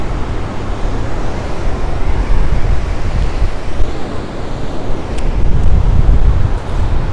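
Strong wind buffets a microphone outdoors on an ocean shore, a steady low rumble of gusts mixed with surf, loud and continuous with no talking.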